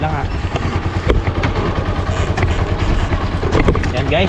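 A Honda TMX 125 motorcycle idles with a low, steady engine rumble, close by with some wind buffeting, while someone talks over it.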